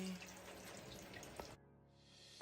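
Steady rushing water from a nearby river, heard from inside a glass-walled sauna set in nature, a broad continuous wash that cuts off abruptly near the end and gives way to a quieter hiss.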